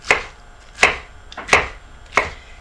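A knife cuts fresh pineapple into slices on a board, four crisp, evenly spaced chops, close and fairly loud with short quiet gaps between them and no talking.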